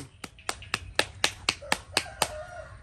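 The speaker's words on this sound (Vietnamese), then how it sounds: "Vỗ tay." An audience at a Vietnamese cải lương folk-opera performance claps in a steady rhythm, about four crisp, close claps per second, with no talk over it.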